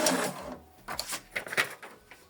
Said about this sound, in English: now it's printing printer information page